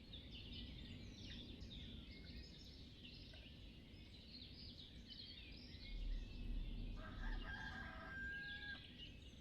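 Chickens and a rooster in the farming game Ostriv, with steady clucking and chirpy calls over a constant low ambient bed, and a louder burst of crowing and squawking near the end.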